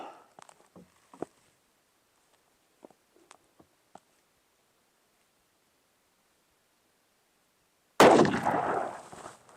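A single loud 7mm PRC rifle shot with a factory load bursts out near the end after a stretch of near silence and a few faint clicks, then trails off in a rumbling decay.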